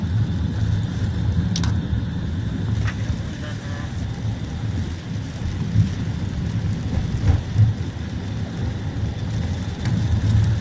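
Light drizzle in Metro Manila during a typhoon, with passing cars hissing on wet roads, a continuous low rumble of traffic and rain while people talk intermittently over it.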